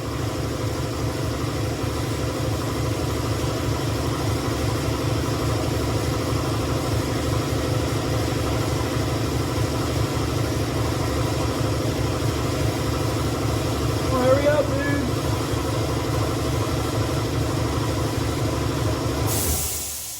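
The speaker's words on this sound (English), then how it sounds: "Trying to wait till the air compressor quiets down." A workshop air compressor runs loud and steady throughout, a continuous droning mechanical hum, with a brief muttered voice near the end.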